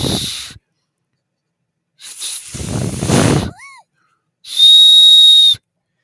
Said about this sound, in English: Their shields are whistles.